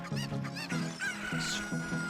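A chicken clucks in quick repeated bursts in Ocarina of Time 3D, close and clear, with short throaty squawks over a steady low background tone.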